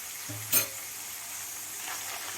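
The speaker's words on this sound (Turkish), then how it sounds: "Şimdi içerisine bir yemek kaşığı salça ilave ediyorum" Tomato and pepper paste sautéing with fried onions and minced meat in a pan, a steady low sizzle with one brief scrape of stirring.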